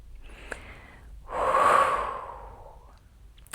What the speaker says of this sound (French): je t'encourage simplement à prendre une inspiration avec moi